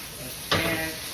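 Ham steak in hot oil bursts into a sudden loud sizzle as it is lifted and shifted in the pan, then the hiss tapers off gradually, all up close.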